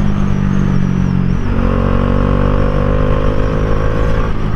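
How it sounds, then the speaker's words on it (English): A 2019 Bajaj Dominar motorcycle engine revving hard past 6000 RPM, a loud, steady, close drone that shifts pitch upward partway through as the revs climb. "if you pull the bike after 6000 RPM, you can see it goes like a bullet after 6000 RPM"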